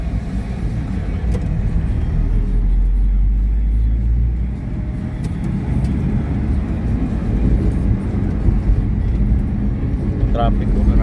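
Road traffic heard from inside a car on a road near Khamis and Abha, a low steady engine and tyre rumble with passing vehicles, while people talk over it throughout.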